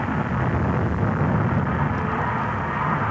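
Steady roaring engine rumble of a spaceship coming in to land in a cartoon, a broad continuous noisy drone at constant loudness throughout with no voices.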